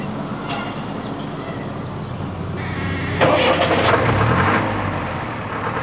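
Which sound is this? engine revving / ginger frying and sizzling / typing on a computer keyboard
engine revving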